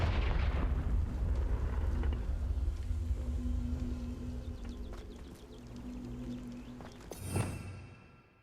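Confringo blasting spell cast in the Hogwarts Legacy video game: a loud, sustained booming explosion that rumbles and fades, followed by a sharp whooshing burst near the end.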